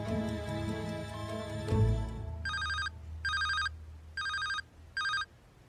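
A mobile phone rings in repeated electronic bursts, four bright trills after a short melodic tone, fairly close and clear with no talking.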